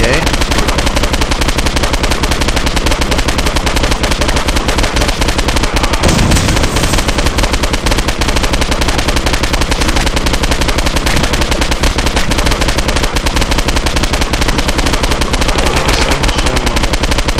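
Rapid, continuous gunfire from the video game Postal 2 Apocalypse Weekend expansion, dense automatic bursts hammering loudly for the whole stretch with barely any pause.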